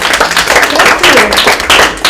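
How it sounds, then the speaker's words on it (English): A group of children at a kids' event clap together in loud, dense applause, close by, with voices mixed in. "Let's give her a big applause"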